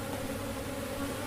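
A dense, steady drone of honey bees buzzing at an open hive during a varroa alcohol wash fills the whole moment, close and continuous with no voices.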